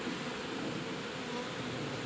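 Honeybees buzz as they are gathered up from the ground while catching and marking queens, giving a faint, continuous, even drone with no talk over it.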